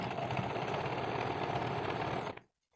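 A sewing machine stitching the side seams of a kurti, running in a fast steady mechanical rattle close by, then stopping abruptly near the end with a few faint clicks.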